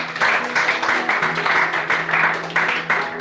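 A church congregation applauds and praises the Lord, a loud, steady roar of many hands clapping that fills the hall with little pause.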